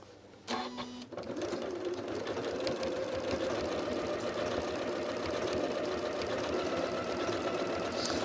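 A Janome Horizon Memory Craft 9480 sewing machine runs steadily at close range after a brief start, its motor whirring in a continuous even hum while it sews patchwork seams.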